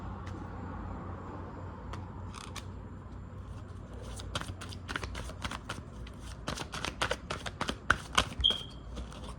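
Cards shuffled and handled from a deck during a tarot-style reading, a run of crisp, quick riffling clicks growing busier and louder toward the end over a quiet room hum, with no talking.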